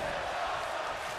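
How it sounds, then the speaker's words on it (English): Steady crowd noise in a WWE 2K23 arena in Portland, a broad continuous roar of cheering and applause at an even level throughout, with no pauses or sharp peaks. "you hear the crowd in Portland giving their appreciation to these four competitors"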